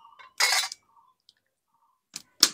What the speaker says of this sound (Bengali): একইভাবে আরেকটা ডিম ফাটিয়ে নেব